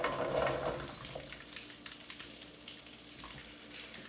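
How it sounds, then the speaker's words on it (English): Washed, de-stringed sugar snap peas sauteing in olive oil in an electric skillet at medium-high heat, a soft, fairly faint sizzle that is louder for the first half-second and then settles into a low crackle. "We are going to saute these at medium-high heat for 8 to 10 minutes, just until they start to get soft and cooked."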